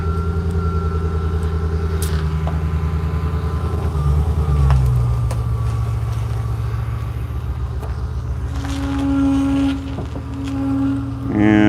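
A pickup truck's engine rumbles steadily at idle and while backing up, a low continuous drone under faint voices, with a squeal of the brakes near the end.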